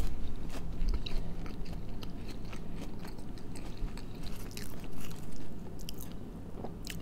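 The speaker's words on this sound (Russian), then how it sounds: "картофельный хэшбраун я впервые, ребят, ем" Close, steady crunching bites and chewing of a fried potato hash brown at a café, continuous mastication noises without talk.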